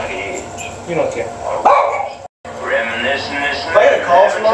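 A pet dog barks and yips repeatedly in short bursts close by at home, mixed with people talking over it, with a brief silent gap midway.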